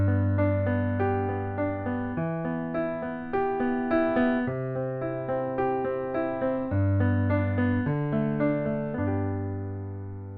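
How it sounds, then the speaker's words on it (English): A piano plays a repeating broken-chord arpeggio pattern, notes rolling upward in steady groups over sustained low bass tones, clear and close with gently ringing decay. "Now arpeggio number 5 sounds like this."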